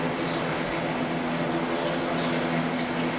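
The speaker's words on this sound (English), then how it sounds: "it's the motherfucking helicopters" A helicopter flying low overhead before landing next door gives a steady, loud rotor drone that fills the whole stretch without letting up, with no voices.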